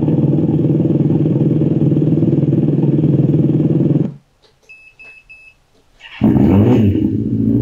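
An electric scooter sound booster plays a simulated engine sound, a loud rumbling motorcycle-style idle that stops abruptly, leaving near-silence with a short series of electronic beeps, before a rougher revving engine tone bursts back in.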